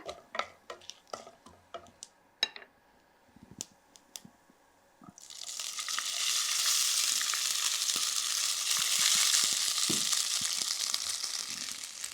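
Cooked rice tumbled into a hot pan of tempered seasoning: a few sharp clinks and taps at first, then a loud, steady broadband sizzle of frying with scraping stirring strokes running beneath it.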